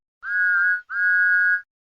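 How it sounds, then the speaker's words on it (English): Steam locomotive whistle in the Wilbert style, two clear sustained toots of equal length with a short gap between, loud and close with no other sound. "My ideal Samson's whistle is Brandon Pauly's Wilbert whistle"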